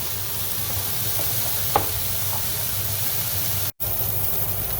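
Onions frying in a pan for Portuguese bitoque, a steady close hiss and sizzle with one brief click, continuous and fairly loud, no talking.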